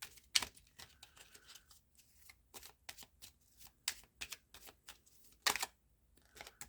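Making Magic oracle cards being shuffled, quick close riffles and flutters in uneven bursts with short pauses, a couple of sharper louder riffles along the way, no voices.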